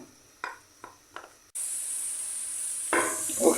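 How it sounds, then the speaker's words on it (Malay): Garlic hits hot oil in a pan and bursts into a loud, steady sizzle after a few soft taps of preparation, the hiss swelling again near the end as it is stirred. "Sautering our garlic, kita punya garlic kita"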